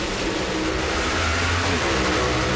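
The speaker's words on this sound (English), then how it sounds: "you hear the RPMs go up" A drag racing car engine drones steadily with a low, building rumble, the revs rising slightly midway, continuous and fairly loud with no voices, at a Top Alcohol Funny Car semifinal.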